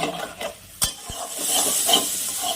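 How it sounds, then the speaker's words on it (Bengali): Spice paste sizzles and fries in a pan while being stirred, with a couple of sharp utensil knocks against the pan, then a steady hiss that builds toward the end. "মশলাটাকে ভালো করে কষিয়ে নিব"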